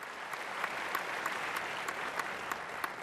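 Steady, dense applause from an assembly during a political vote, a continuous far-off wash of clapping with a few sharper claps standing out, fairly faint and without speech.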